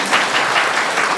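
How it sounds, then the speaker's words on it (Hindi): Loud, dense applause from an audience at a spiritual class session, a steady close wash of clapping with slight swells, with no talking over it. "अपने लिए जोरदार ताली बजा लें।"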